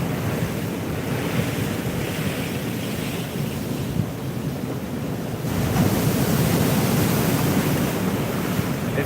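Choppy ocean surf churns beneath a fishing pier in Panama City, a loud, continuous wash of breaking water mixed with gusty wind buffeting the microphone, growing rougher toward the end.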